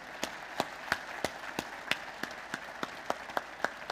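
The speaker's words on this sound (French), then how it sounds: "Vos applaudissements pour Élie de Carvalho, mesdames et messieurs" Applause at an awards ceremony, where an audience greets an Olympic medallist with a run of distinct, fairly quiet claps spaced about a third of a second apart, sounding sparse and somewhat distant.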